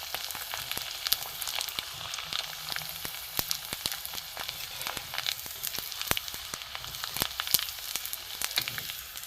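Semolina papad fries in hot oil in a wok, giving a steady close sizzle broken by frequent sharp crackles and pops throughout.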